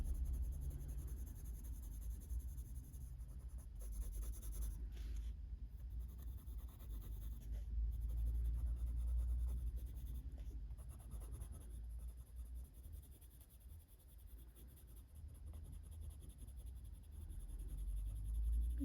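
Coloured pencils scratch steadily across paper while shading a sea turtle shell drawing, a soft continuous rubbing texture close up with no talking, under a low background hum.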